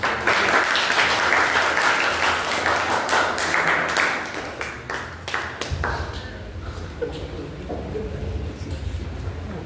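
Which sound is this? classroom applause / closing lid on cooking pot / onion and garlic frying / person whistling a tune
classroom applause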